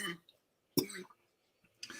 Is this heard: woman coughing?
yes